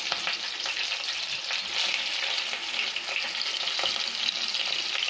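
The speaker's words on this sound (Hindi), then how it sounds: "अब हम इसमें ऑनियन डालेंगे" Onion fries in hot oil with curry leaves for an aloo masala sandwich filling. A dense, loud, continuous hiss of sizzling oil is broken by a few light stirring ticks.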